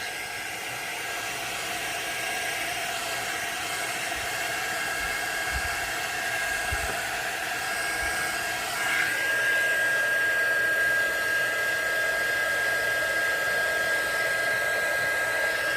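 A hair dryer blows steadily and loudly close by to dry paint on a resin casting, a continuous whooshing drone with a slight shift in tone partway through as it is moved.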